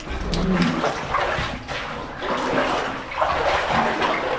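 Dark water inside an old mine adit with rusty flowstone deposits is stirred up, giving close, irregular sloshing and splashing that surges and eases in waves.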